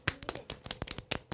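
Two fingers tap against a palm to imitate light rain in a children's music class, giving a brisk, irregular run of close, crisp little claps.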